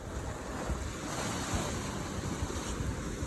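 Ocean surf washes steadily and fairly loudly throughout, with a constant broadband roar and gusty wind rumble over the microphone, no voices present.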